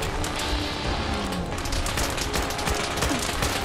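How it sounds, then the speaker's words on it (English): Rapid sustained minigun fire in Fallout 4, a dense continuous rattle of shots over noisy game ambience for several seconds. "Oh god, of course he has a minigun."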